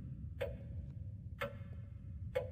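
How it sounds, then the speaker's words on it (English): Ticking clock in the horror game The Lost Fear, three crisp, evenly spaced ticks roughly one second apart, quiet and isolated above a low droning background. "Okay, I hear a clock ticking."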